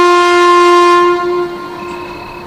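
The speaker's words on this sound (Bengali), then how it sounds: "শীতের ভারী বাতাসে করুণ হুইসেল বাজিয়ে ট্রেন ছেড়ে গেল।" A train sounds a long, mournful steady whistle as it pulls away, loud and near at first, then fading as the tone drops off, with no voices over it.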